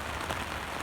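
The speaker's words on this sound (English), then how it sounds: "It's doing a wonderful pouring of rain today around the good old city of Calgary." Heavy pouring rain in Calgary, a steady, dense hiss of drops hitting surfaces all around, with no voices.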